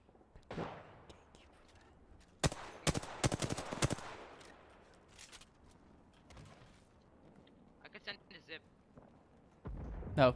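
Video game gunfire in a tactical shooter, a quick burst of sharp automatic shots followed by scattered single reports, with people talking over the action.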